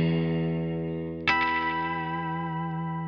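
Electric guitar run through a J. Rockett Boing spring reverb pedal set to maximum, a sustained chord ringing with heavy springy wash, then a sharp struck chord near the middle that splashes and decays in a long shimmering tail.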